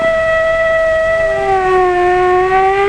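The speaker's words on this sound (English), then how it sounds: "What does the siren on the fire truck say?" A steady, loud wailing siren holds a tone, then slowly drops in pitch, sounding alone without other noise.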